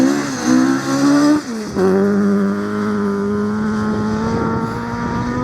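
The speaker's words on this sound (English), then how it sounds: "So the car's going to be coming round the corner and driving into the space." A rally car at the Riponian Stages rally in Gale Rigg rounds a corner, its engine loud and close with a sustained droning note that dips briefly as the driver lifts off, then pulls hard again.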